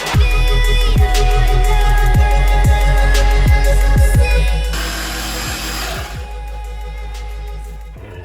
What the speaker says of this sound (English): Yeah, pretty shocking with the jigsaw